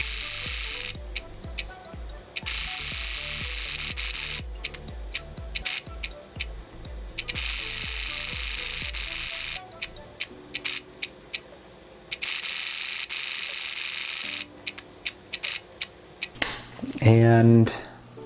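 A Canon camera shutter firing repeatedly until it fails: rapid rhythmic mechanical clicks in long bursts separated by short gaps, close and loud, ending with a harsher, strained whirring burst near the end.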